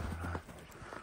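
A farmer's horse at a market clip-clops briefly, a few soft hoof strikes heard faintly at a distance.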